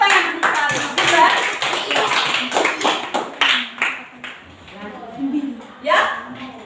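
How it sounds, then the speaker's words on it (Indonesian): Students in a class VIIIA classroom burst into quick, scattered hand claps that crowd the first few seconds and then thin out, with a teacher's voice talking over and after the applause. "Oke, tepuk tangan untuk kalian."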